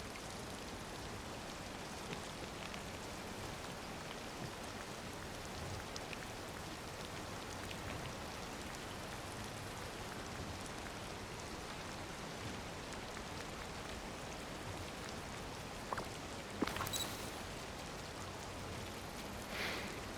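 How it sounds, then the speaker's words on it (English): Rain falling in the video game Disney Dreamlight Valley, a soft, even patter of drops on surfaces that continues steadily and quietly, with a few brief faint clicks near the end. "I can't do really much more because of the rain"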